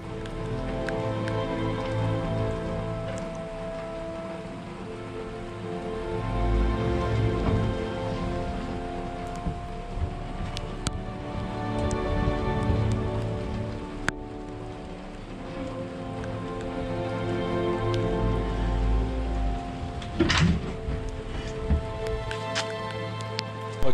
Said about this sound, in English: it's a rainy day, I've picked a good day for it.